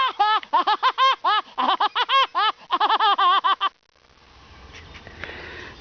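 A voice imitates the Woody Woodpecker laugh outdoors at Berlin Lake, a rapid run of bouncing, warbling syllables in several bursts, followed by quiet outdoor background.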